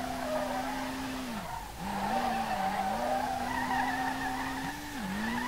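Tires of a Nissan R32 squeal continuously while drifting through a corner in the racing game SLRR, a sustained whine that dips and bends in pitch over a loud engine drone.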